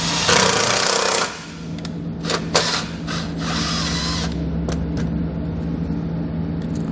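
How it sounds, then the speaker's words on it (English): A power driver spins a self-tapping screw into the steel frame of a 2008 Jeep Wrangler with a 5/16 nut driver, a loud close whine for about a second, then short bursts of bits biting metal. "I'm going to use a 5/16 nut driver, and I'm just going to secure that wire directly into the frame."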